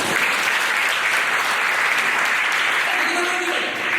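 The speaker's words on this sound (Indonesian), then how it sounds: "Berikan tepuk tangan buat Tuhan kita." Congregation applause during a church sermon, a dense, loud, continuous roar of clapping that fills the whole few seconds, with a voice faintly audible near the end.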